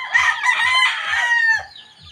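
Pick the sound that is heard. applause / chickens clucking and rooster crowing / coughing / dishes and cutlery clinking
chickens clucking and rooster crowing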